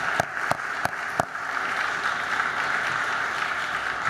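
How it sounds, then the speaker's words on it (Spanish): Conference audience at the Transatlantic Summit in Budapest applauds the local hosts, opening with a few loud, distinct close claps before settling into broad, steady clapping from the room. "primero un gran aplauso"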